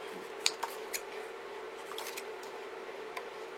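Scissors snip through paper pieces for a small envelope, a few sharp isolated cuts scattered over a steady low hum, close and fairly quiet.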